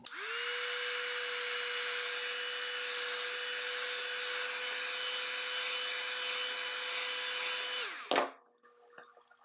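Heat gun blowing hot air onto a cosplay hand piece, a steady loud whirring roar with a constant motor tone held for about eight seconds, then switched off and fading into quiet handling noises.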